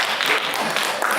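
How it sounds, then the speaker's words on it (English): An audience claps a round of applause for a woman at a motivational stand-out event, brief dense clapping at an even, moderately loud level. "Please, a round of applause for her."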